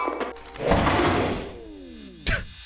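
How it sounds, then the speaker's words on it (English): A door swings open in the co-op horror game Lethal Company, a single broad creaking rush that swells and fades over a second or so, ending in a short sharp knock, close and fairly loud with no talk. "You open this door, B3"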